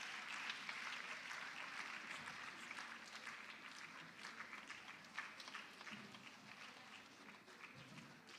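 A summit audience keeps up steady, faint applause for Queen's College, with continuous clapping and a few distant voices underneath.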